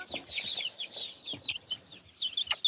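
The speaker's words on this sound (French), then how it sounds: "Ce sont des Brahmas, des poules de luxe, souvent utilisées pour des concours de beauté." Brahma hens cluck softly nearby in short, scattered bursts with a few higher chirping notes, quiet and close with no talk.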